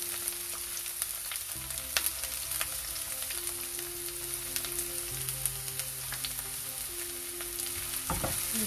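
Onions and green chilies sauteing in a little oil in a pan, a continuous even sizzle with light stirring scrapes, fairly quiet and steady, and one louder knock near the end.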